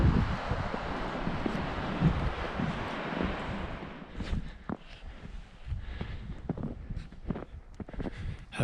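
Strong wind buffets the microphone on an open hillside near ancient petroglyphs, a loud continuous roar for the first four seconds that then drops into lighter, gusty rushes with intermittent rustling.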